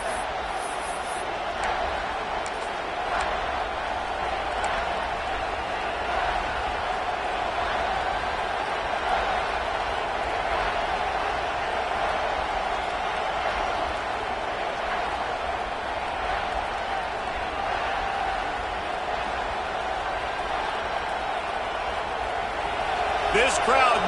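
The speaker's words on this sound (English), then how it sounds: "This crowd knows this defense needs them right now." A steady roar of a football stadium crowd rallying behind the UCLA defense, dense and sustained for the whole stretch, with a commentator talking over it and a brief swell near the end.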